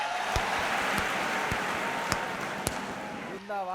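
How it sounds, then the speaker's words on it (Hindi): Audience clapping at a Hindi comedy poetry gathering, a steady wash of applause with a few sharp individual claps standing out, and a voice coming in at the end. "ताली बजाइए, एनर्जी मिलती है।"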